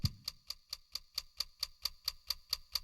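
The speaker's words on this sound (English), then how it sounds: "That mysterious ticking noise." Haunted clock in the Silent Hill 4 game ticking in a steady, even rhythm of about a dozen sharp, clear ticks, heard alone.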